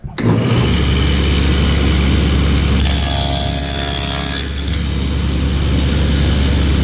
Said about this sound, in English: grab anything, big old piece of plywood, and I'm going to cut a practice rabbet.